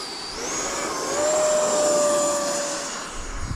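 An E-Flite Viper 90mm radio-controlled electric ducted-fan jet taking off from a field, its fan spooling up into a loud, steady high whine that rises, holds and then fades slightly.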